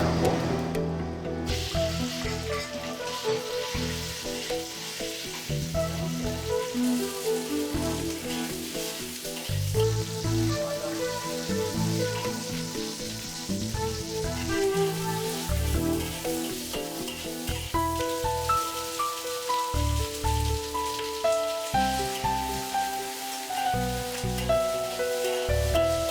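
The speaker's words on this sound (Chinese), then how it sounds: "五花肉下锅" Pork belly sizzles steadily in a hot wok for a stir-fry dish, a continuous close frying hiss that runs unbroken throughout with no one talking.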